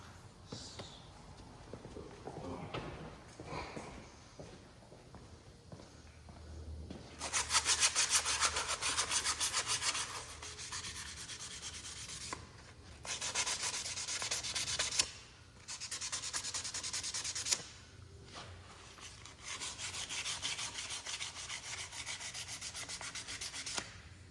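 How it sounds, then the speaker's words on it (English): Sandpaper rubbing on a Low Rider S motorcycle handlebar, in several separate bursts of steady back-and-forth scraping with short quiet pauses between them, close and moderately loud. "Yeah, it's gonna need sandpaper."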